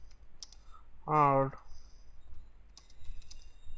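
A computer keyboard gives a few soft, sparse key clicks, separated by a brief spoken word from a man.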